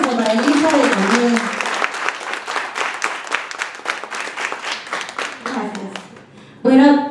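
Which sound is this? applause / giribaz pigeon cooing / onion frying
applause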